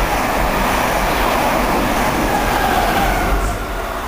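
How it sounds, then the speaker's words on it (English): A Norwich-bound Mark III passenger set thunders through Needham Market station at speed, a loud, sustained rushing roar of wheels and air that stays heavy throughout and eases slightly near the end. "we've got a Norwich bound Mark III set, about to thunder past in the other direction"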